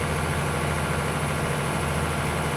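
Slow, old-style tractor engine in Farming Simulator 25, idling with a low, steady rumble that holds even and continuous throughout, with no talk over it.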